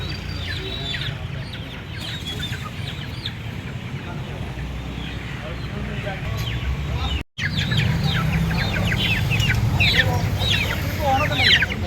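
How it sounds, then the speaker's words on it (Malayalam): A small flock of about ten chickens, newly brought home, clucks and squawks continuously nearby, with talk heard over the birds. "ഞങ്ങൾക്ക് ഇതുപോലെ തന്നെ പത്ത് കോഴിനെ കിട്ടി അത് വീട്ടിലേക്ക് കൊണ്ടുവന്നു"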